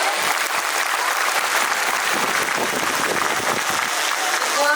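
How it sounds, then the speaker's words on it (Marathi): Audience at a village festival event clapping loudly and continuously, a dense close wash of applause from start to finish. "मग जोरदार टाळ्या वाजवा बरं"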